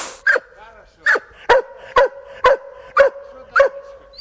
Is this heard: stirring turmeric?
no